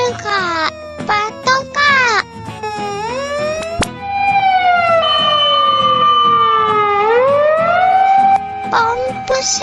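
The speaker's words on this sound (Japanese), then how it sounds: "ポンプ消防車。" A Japanese pump fire engine's siren wails loudly and up close, starting with short rising and falling bursts before settling into a long sustained sweeping tone, with a voice briefly heard early on.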